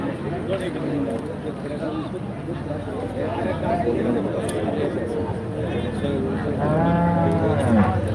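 Busy cattle market in Kaitala, Mirzapur, Tangail, Bangladesh, with constant overlapping chatter; a cow lets out a drawn-out moo near the end, rising above the crowd noise.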